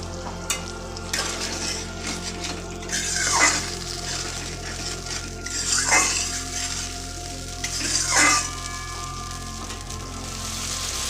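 A blended paste is added to spiced oil and fried for a vegetarian fish-style curry. A steady sizzle rises in three louder hissing bursts as it is stirred, over a faint constant hum.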